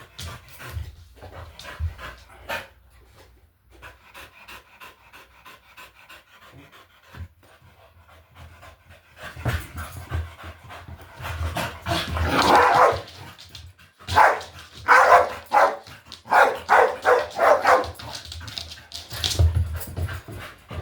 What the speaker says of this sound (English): When he's barking like this, it's so hard to get to relax.